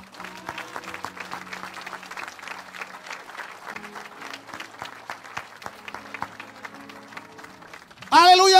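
Church congregation applauding Jesus Christ, a dense patter of clapping that runs under a preacher's voice, then a brief loud vocal outburst at the very end.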